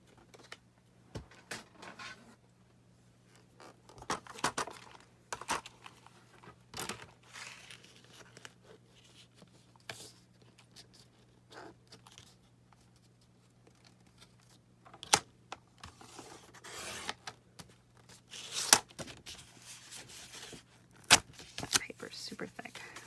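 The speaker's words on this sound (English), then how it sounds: "So I'm going to go ahead and cut it off." Intermittent crisp snips and crinkles of cutting a thick junk journal page, scattered irregularly with quiet gaps, close and moderately soft.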